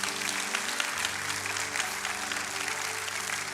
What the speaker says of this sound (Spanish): ¿por qué no das un fuerte aplauso a las personas que oraron esa oración?